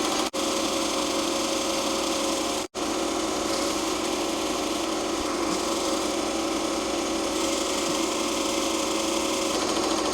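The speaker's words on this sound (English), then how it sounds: "The machine does all the work." An embroidery machine stitches a logo in a continuous dense mechanical whir that stays loud and even throughout, broken by two brief dropouts.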